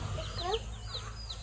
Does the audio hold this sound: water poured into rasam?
no